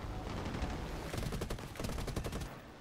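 Rapid bursts of gunfire in a shooting video game, a quick series of sharp cracks around the middle that fades toward the end, fairly quiet and with no talking.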